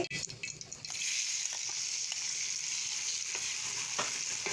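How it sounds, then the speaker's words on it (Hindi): Tomatoes hit hot oil in a pan for chicken karahi, setting off a loud, steady hiss and crackle that holds after a brief clatter at the start. "ये हमारा ऑयल गर्म हो रहा है। हम इसमें टमाटर फ्राई करेंगे।"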